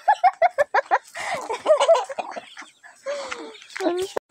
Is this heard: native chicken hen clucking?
yes